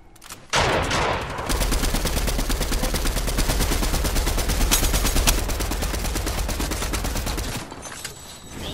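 Sustained automatic gunfire in a squad shooter video game, a dense rapid stream of loud shots running for several seconds without pause before cutting off.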